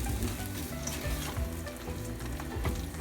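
Vegan egg burrito filling sizzles steadily in a pan while it is folded together, a dense continuous frying hiss with soft stirring scrapes, no voices.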